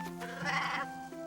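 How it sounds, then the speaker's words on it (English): A single sheep bleats in an animated children's story about a shepherd and his flock, one wavering, drawn-out cry over quiet background music. "Once there was a shepherd with 100 sheep, but he lost one of them."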